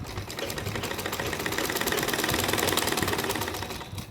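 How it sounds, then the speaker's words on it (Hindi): A sewing machine stitches a fabric strip onto a small doll dress, a close, fast, even mechanical clatter running steadily without pause and swelling slightly before easing off at the end. "तो सिलाई लगा लेते हैं"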